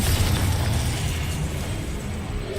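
A Confringo spell explosion in the video game Hogwarts Legacy, a loud rumbling blast with heavy low-frequency boom that stays dense and gradually eases, with no voices over it.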